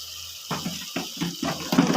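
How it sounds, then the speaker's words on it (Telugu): Water poured into a mutton curry with garam masala, coriander and coconut powder: short splashing gushes in quick pulses, close and moderately loud. "ఇలా వాటర్ వేసేసుకున్నాము."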